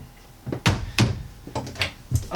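A cabinet door on the medicine cabinet of a 2020 Tiffin Allegro 34PA motorhome bathroom knocks and thuds several times in quick succession, close by, each bump short and wooden, with no talking.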